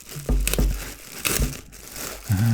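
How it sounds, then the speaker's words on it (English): A plastic bag being opened and eased apart, bursts of crisp crinkling and rustling close by, coming in several short bouts with brief pauses between them. "Let's see if we can get out of the plastic bag."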